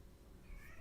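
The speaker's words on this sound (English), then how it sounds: "So I think that's my cat in the background." A pet cat meows faintly in the background of a quiet room, a single soft, drawn-out cry almost buried in low hum.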